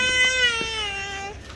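Infant crying in a large, busy airport terminal while being carried, a single sustained wavering wail lasting over a second, close and fairly loud over faint crowd background.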